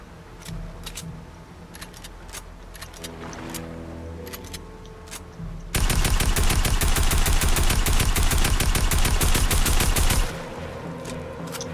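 Rapid automatic gunfire in Fortnite aimed at a loot shark, a sustained loud burst of several seconds that erupts after quieter game sounds and scattered shots, then cuts off abruptly.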